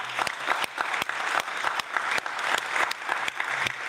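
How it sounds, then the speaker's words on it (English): Applause from an audience closing a panel session at a standardisation summit, steady clapping with a few sharp individual claps standing out, moderately loud and without talk. "Please join me in a round of applause."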